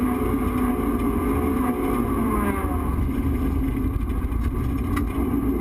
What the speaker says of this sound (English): he's doing an awful lot of fishing for gears there, Boydo.